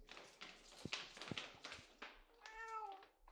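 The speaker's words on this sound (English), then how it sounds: "Oh, that's our cat." A pet cat being hugged gives a few faint, close meows and a drawn-out, wavering meow near the end, over soft rustling and thumps indoors.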